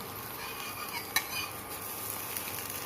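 Eggs fry in a pan at home for dinner, a soft steady sizzle with a single clear clink of a utensil against the pan partway through, quiet and close, no voices.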